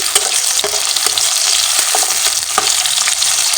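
Green chili and onion fry in mustard oil in a pan, giving a loud, constant crackling sizzle with a few sharp clicks from stirring and no voices.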